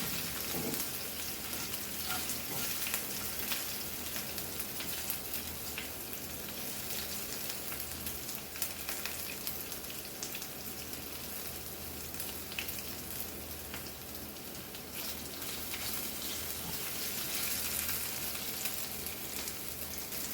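Oil fries steadily in a pan, a faint, even, rain-like sizzle that holds without break and without any talking.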